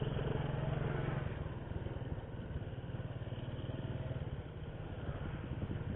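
A Kadiri Chunlan 125 motorcycle, restarted cold after two years parked in a garage, runs with a steady, rapid mid-pitched engine chug and clatter that holds an even level throughout.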